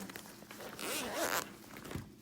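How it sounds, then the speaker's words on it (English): A zipper on a handbag's inner pocket is pulled open in one quick, close, crisp zip with light fabric rustle around it. "there's a black zipper pull on the inside"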